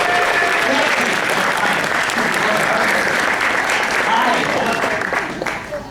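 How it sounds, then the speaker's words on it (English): Sustained audience applause at a horror makeup show, loud and dense throughout with a crowd voice or two faintly mixed in, tapering slightly at the very end. "Oh, clap, clap, clap, clap, clap!"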